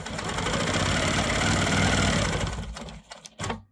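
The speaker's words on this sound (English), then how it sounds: "They may just pause the machine to reposition." A Quilt Maker Pro 20 quilting machine runs steadily, stitching fabric with a dense continuous mechanical hum for about three seconds before stopping, followed by a few short clicks and bursts as the machine is repositioned.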